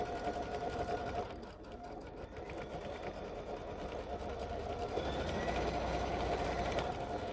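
A sewing machine quilting through layered fabric with a Move It foot, a steady continuous whirring stitch at a moderate, even pace, close and fairly quiet throughout.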